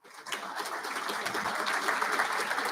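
Applause for sponsors at an all-Ireland drama finals evening swells up quickly from silence, then settles into a steady, moderately loud wash of clapping hands in the hall, without speech on top.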